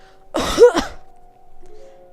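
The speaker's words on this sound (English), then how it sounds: "He heaves a dry cough against his elbow." A single short, dry cough bursts out close by, one harsh throaty expulsion lasting under a second, followed by a quiet background with a low steady hum.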